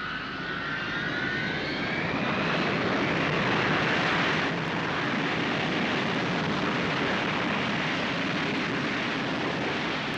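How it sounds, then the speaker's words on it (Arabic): An airplane taking off, its engines roaring in a loud, continuous broadband rumble that swells slightly and holds steady throughout, with no voices. "الطيارة طارت"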